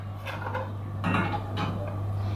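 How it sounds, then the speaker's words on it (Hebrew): Spoon scraping and stirring a strawberry mousseline cream mixture of eggs in a pot, soft irregular scrapes and light clinks close by over a steady low hum. "אני מערבבת טוב טוב."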